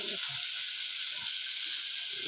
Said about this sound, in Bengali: এবার লঙ্কার গুঁড়োটা দিয়ে দেবো।